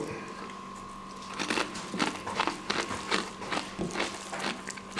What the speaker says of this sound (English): I'm crunching something, I don't know what I'm eating, but anyway, potato skins.